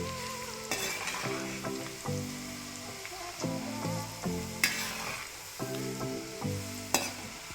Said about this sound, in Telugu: చూడండి మంచిగా వేయిపోతుంది